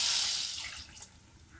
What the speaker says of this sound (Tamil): நான் இப்போ இந்த புளி, சாம்பார் தூள், அரிசி மாவு, உப்பு சேர்த்த தண்ணியை ஊற்றுறேன்.